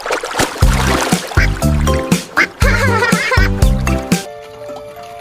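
A toy duck quacks in a run of about eight loud, short honking bursts at an irregular pace, with brief gaps of quiet between them.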